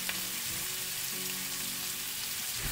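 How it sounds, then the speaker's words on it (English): Onions and cremini mushrooms sizzle steadily in hot oil and butter in a pan, a loud, dense, continuous frying hiss with no talking. "Into this hot oil and butter mixture, we're gonna go ahead and add our onions and our mushrooms"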